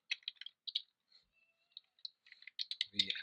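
Typing on a computer keyboard comes in quick clusters of light key clicks, close and fairly quiet, with short pauses between bursts and a heavier clatter near the end.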